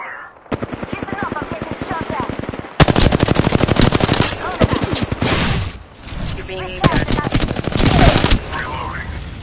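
Rapid automatic gunfire from a video game, loud and nearly continuous in long rattling bursts with brief gaps, while a player talks over it.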